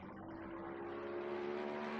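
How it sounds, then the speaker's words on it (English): Mercedes-AMG GT3 Evo race car engine in a racing sim game at Monza, a loud steady drone that climbs slowly in pitch and holds at high revs, with no talking. "this is the Evo iteration of the Mercedes AMG GT3. It's a big unit of a car. Sounds like one as well"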